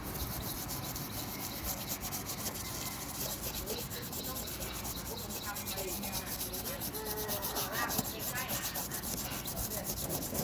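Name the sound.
scrubbing a surface with bathroom cleaner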